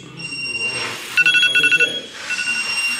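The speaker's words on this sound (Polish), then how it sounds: "Jak widzicie, alarm się włączył, wyje" A bicycle alarm goes off with a shrill electronic tone, pulsing in a rapid burst of repeated beeps, then settling back into a steady wail over background noise.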